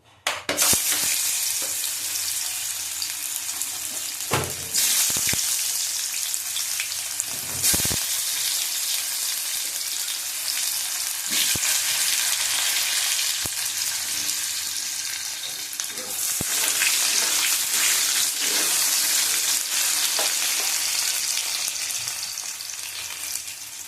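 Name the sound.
potatoes frying in oil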